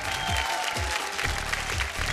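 Studio audience clapping to welcome a judge on a Bhojpuri television reality show, sustained applause over a low musical bed with swelling tones.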